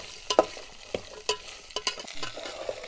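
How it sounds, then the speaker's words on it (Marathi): Spices are sautéed briefly in oil, quick scraping and clinking of a spatula in the pan over a soft background sizzle. "हे थोडंसं परतून घेते तेलामध्ये।"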